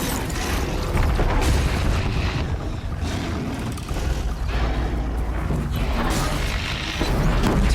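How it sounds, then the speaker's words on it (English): Proximity bombs blast in the Horizon Zero Dawn game, a loud, dense barrage of booming explosions rolling continuously across the stretch with heavy low rumble and no pauses. "And we'll do some proximity bombs here."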